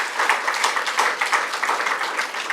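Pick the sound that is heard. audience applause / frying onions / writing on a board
audience applause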